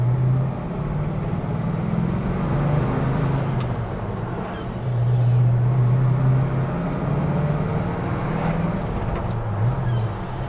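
A 1970 Chevrolet C10 pickup with a three-speed transmission pulling through its gears, engine droning loud and close from inside, pitch rising and dropping with each shift over about ten seconds.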